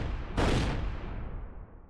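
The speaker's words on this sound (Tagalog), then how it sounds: "Sa mismong harapan niya, 2 putok." A loud gunshot sound effect bursts out sharply and rings into a broad, fading rumble over a steady background noise, with only one clear blast standing out.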